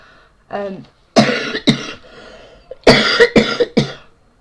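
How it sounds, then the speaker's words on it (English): Several harsh, hacking coughs from a cannabis smoker with a year-long cough, in two bursts, close and loud, with a short throat-clearing sound at the start and quiet pauses between. "Exhibit A, this horrible cough."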